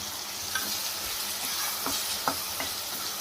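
Tomato masala is stirred in a pan after cumin and coriander powder go in, a steady sizzle carrying several distinct scraping stir strokes, close and without speech.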